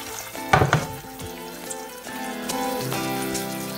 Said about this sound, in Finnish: Ja pienellä lämmöllä vähän tässä puriseeni.